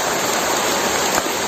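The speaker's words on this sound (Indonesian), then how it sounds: "Langsung hujan." Heavy rain pours down outdoors in a steady, dense hiss that fills the whole moment, loud and close, with no voices over it.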